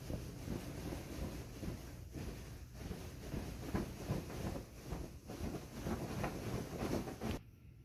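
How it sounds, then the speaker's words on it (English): Flag flapping in the wind: rapid, irregular fluttering flaps and snaps over a steady windy rush, continuous until an abrupt stop at the end. "This is a flag flapping in the wind."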